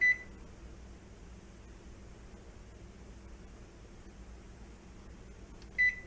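A kitchen timer being set gives two short electronic beeps, one at the start and one near the end, separated by a quiet stretch of low room hum.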